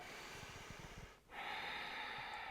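A person takes one full, deep breath while holding goddess pose in a yoga flow, a breathy inhale that pauses briefly before a long, steady exhale, close and quiet with no talking.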